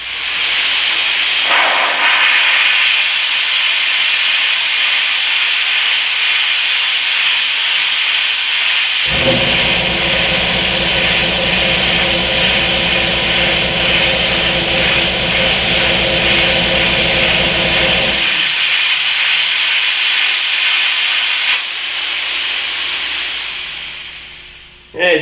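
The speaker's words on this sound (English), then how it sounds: "As you can hear, the air compressor kicked in there" Air compressor running loudly in a workshop, a steady harsh hiss throughout with a deeper droning motor hum joining for about nine seconds in the middle before cutting off, then the hiss stops near the end.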